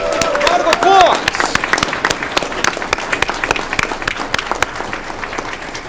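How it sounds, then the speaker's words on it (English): Applause at a city council meeting for girls basketball tournament champions: a dense, loud burst of many hands clapping in a chamber, with a voice and brief cheers at the start. "Round of applause."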